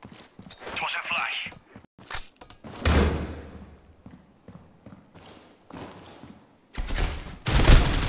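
Gunfire in the mobile shooter Critical Ops comes as scattered clusters of sharp shots and rapid bursts, with louder volleys near the end, mixed with footsteps and game noise under someone talking.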